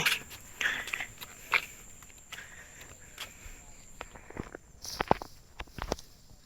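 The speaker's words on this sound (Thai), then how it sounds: "เดินไปเดินไป" Footsteps crunch through an open rural field near fishing spots, a series of irregular steps and rustles at close range over a faint insect and cricket background.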